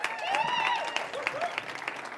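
Audience applause for a band at a collegiate Christian fellowship church gathering: steady clapping with a few whoops and cheers rising over it, then thinning out toward the end.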